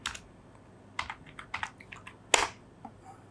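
Crisp keystrokes on a computer keyboard while CSS code is typed: short bursts of quick, close clicks separated by pauses, with one louder clack near the end and a faint background hum.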